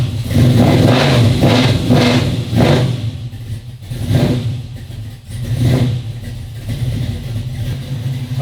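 Buick Regal engine with an open header revving in several loud, rough blips, the first rising and falling quickly, then slower surges over a throaty idle, close up with no voices.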